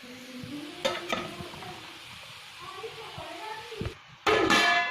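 Cooked rice is stirred and fried in a pan with a soft crackling sizzle and repeated spatula scrapes and knocks, ending in a louder burst of frying, while a voice speaks nearby.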